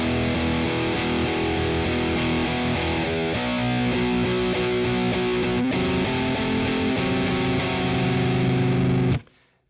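Distorted electric guitar chugs through a riff, a loud, dense stream of rhythmic power chords with steady repeated attacks, played alone without talk and cutting off abruptly at the end.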